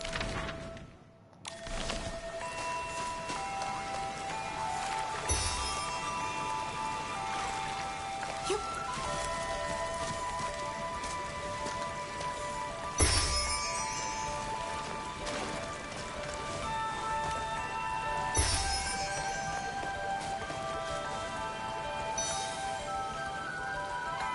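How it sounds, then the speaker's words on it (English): Steady rain patters through a scene in the video game Infinity Nikki, a continuous soft wash of falling drops with brighter chimes and tones layered over it, holding at a moderate level throughout with no talking. "The flips and flops of raindrops are so nice to fall asleep to."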